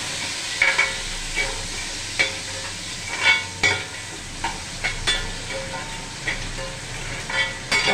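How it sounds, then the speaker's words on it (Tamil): Onion, garlic and curry leaves sauté in oil for a snake gourd kootu, a low sizzle under repeated scraping strokes of a spoon against the pan, each stir a distinct clatter at an uneven rhythm. "வெங்காயம் போட்டுங்க, கருவேப்பிலை போட்டு நல்லா வதக்குங்க"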